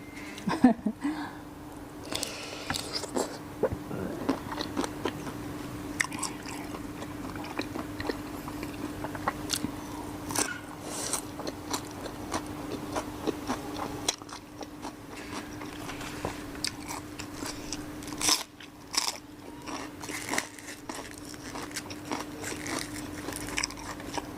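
Close, crunchy biting and chewing of a spicy Thai mixed seafood salad with tiger prawns, shellfish and octopus tentacles in a shrimp-paste and lemongrass dressing, a steady run of wet crunches and mastication.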